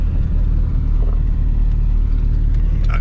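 BMW race car engine droning steadily after a missed gear shift, a constant loud low rumble with no clear rise in revs, heard from inside the car with no talking.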